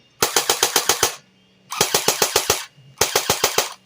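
JG Mac 10 airsoft AEG, partly depleted battery, firing three short bursts of rapid mechanical clacks, about seven shots each with gaps between, loud and close with no talk.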